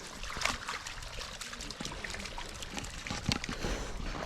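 Creek water trickles and babbles steadily close by in a continuous, even flow with small splashy accents.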